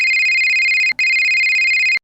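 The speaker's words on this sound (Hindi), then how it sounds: "फोन बज उठा।" A telephone rings in a horror story, a loud, steady electronic tone in two long bursts separated by a brief gap, alone with no talking.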